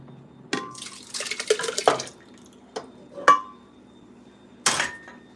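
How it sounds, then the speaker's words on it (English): Cherry juice splashes while Easter dinner is being made, in several short wet bursts with light clinks of dishes, separated by quiet gaps. "And I'm splashing cherry juice everywhere."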